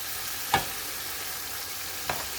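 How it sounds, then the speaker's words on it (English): Fish in a pan sizzles quietly and steadily as sauce is spooned over it during cooking of a fish bhuna, with two short, sharper hisses or stirring scrapes standing out from the constant frying noise. "what I'm going to do is cover the fish with the sauce,"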